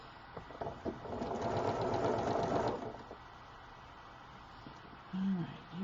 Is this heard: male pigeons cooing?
no